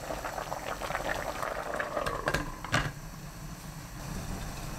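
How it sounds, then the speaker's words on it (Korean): Potato seaweed soup made without meat, with a generous two spoonfuls of perilla seed powder, boiling on high heat: a steady close bubbling and burbling, busier in the first half, then settling slightly. "들깨가루 듬뿍 2큰술 넣고 센 불로 끓입니다."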